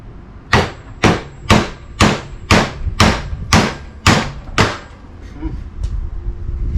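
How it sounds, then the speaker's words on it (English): Eight heavy, evenly spaced blows from a big hammer ring out on metal, close and loud, shaping motor mounts for a Model A frame, followed by a few fainter taps. "Got my favorite big hammer."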